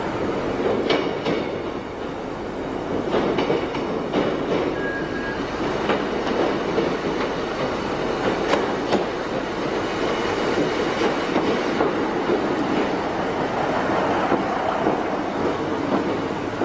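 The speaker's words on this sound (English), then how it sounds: "As the train approaches its first station stop" A British Rail Class 155 passenger train, 1989, rolls steadily along the rails toward its first station stop with a continuous rumble, rhythmic wheel clicks and an occasional faint squeal, no voices.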